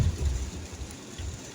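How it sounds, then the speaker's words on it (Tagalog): Heavy rain pounding a car on the Skyway in the early morning on the way to the airport, a steady dense wash with low rumbling road noise underneath, no talk. "Pero malakas ang ulan dito sa Skyway."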